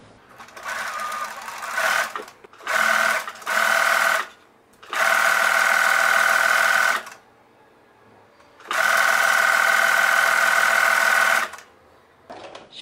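A sewing machine stitches parallel seams on a dress, running in several bursts of fast, steady whirring, two short and two long, separated by quiet pauses, close and clear with no talking over it.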